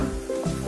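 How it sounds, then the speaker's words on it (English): Vegetables sizzle and hiss in a dried pan for coconut fried rice, a close, steady frying sound with a stirring scrape, no voices over it. "so now I'm gonna fry my vegetables here"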